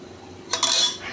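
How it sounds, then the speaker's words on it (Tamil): A metallic clatter and a brief hiss as a pressure cooker lid is opened after cooking green peas, followed by a soft rush of escaping steam. "இப்போ குக்கரை நம்ம ஓப்பன் பண்ணிக்கலாம்."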